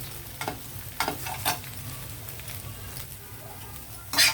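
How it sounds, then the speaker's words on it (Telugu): Scrambled egg fries in a pan, a soft continuous sizzle broken by a few scraping stirs and a louder clatter near the end. "ఇలాగా మనం ఫ్రై చేసుకునేది స్క్రంబుల్డ్ ఎగ్"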